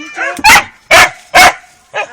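A dog barks three loud, sharp times at about half-second intervals, close by, followed by a softer fourth yip, with a little background voice between barks.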